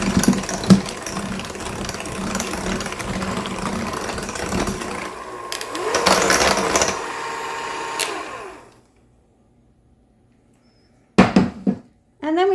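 Electric mixer whirring through funfetti loaf cake batter in a home kitchen: a steady close motor buzz for several seconds that rises briefly, then cuts out into quiet before a few short handling clatters.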